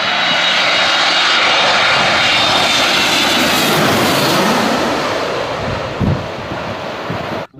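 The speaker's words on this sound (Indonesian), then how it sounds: "Wah, ada pesawat besar," A large airplane roars loudly overhead, a steady broadband engine drone with wind rush that slowly eases toward the end.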